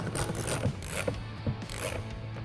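Bolts with nuts and washers are tightened while fitting a fuel system on a 410 sprint car build, with quiet metallic ratcheting clicks and taps in an irregular rhythm, close and faint, with no talking.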